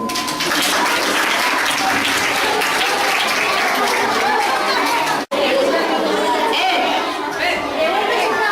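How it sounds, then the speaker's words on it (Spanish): At a primary school Christmas show, an audience claps steadily and fairly loudly while voices chatter beneath it, the applause briefly cutting out midway before resuming. "Un fort aplaudiment."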